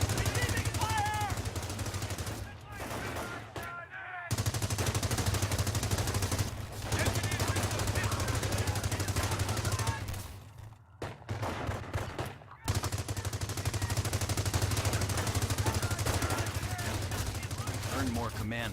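Rapid machine-gun bursts and scattered rifle shots crackle in a Company of Heroes battle, dense and loud, broken by a few brief quiet gaps before the firing resumes.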